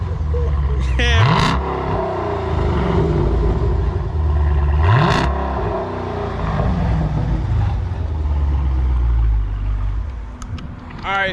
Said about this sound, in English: Just go ahead and rev it.